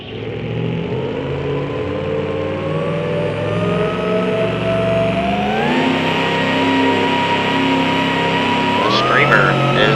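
The Screamer two-wheel drive pulling truck roars loudly at a Major League Pulling Series event in Cincinnati, its engine revving steadily and climbing in pitch as it pulls down the track.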